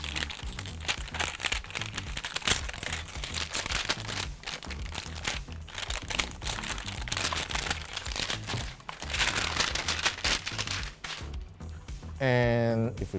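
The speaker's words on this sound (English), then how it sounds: "just gonna rip open the plastic." Plastic packaging being ripped open while unboxing a ROG Ally handheld, continuous crinkling and crackling plastic up close, with a person talking over it.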